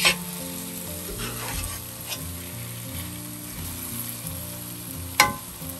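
Food sizzles steadily in hot oil, with occasional clinks of a utensil against the pan and one sharp knock near the end.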